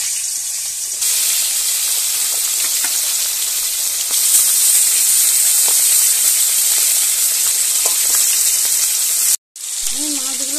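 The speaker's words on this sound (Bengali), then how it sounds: "দিয়ে দেব তেল, তেল গরম করে মাছগুলোকে ভেজে নেব।" Hilsa fish frying in hot oil in a pan gives a steady, loud sizzle that runs unbroken, cutting out briefly near the end before resuming.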